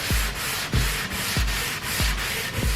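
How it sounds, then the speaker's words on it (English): A fine power sander grinds steadily against an old wooden table in close, rhythmic back-and-forth strokes with the grain, each pass marked by a low scraping sweep, with no voices. "the fine sander is going to make this pretty much ready for finish"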